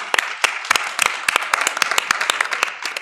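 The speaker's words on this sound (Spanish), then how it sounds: "un aplauso para nosotros." A small group clapping at the close of a radio session, sharp uneven hand claps in a lively burst, close and fairly loud, with a little chatter.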